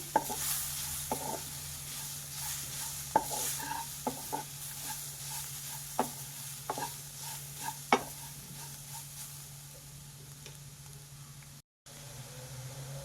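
Green chillies and seasoning frying in a pan for a quick breakfast dish, a steady low sizzle broken by irregular scraping clicks from stirring, fairly quiet and close, with no voices.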